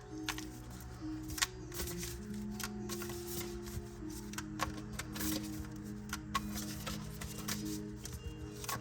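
Riffling and flicking of playing cards being shuffled, a steady run of crisp papery clicks close by against a low background hum, with no talking.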